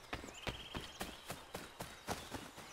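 Rhythmic hoofbeats of a horse in the video game Assassin's Creed III clop along at a brisk, even pace, moving quickly, fairly faint and without talk.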